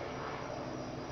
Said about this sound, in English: we got helicopters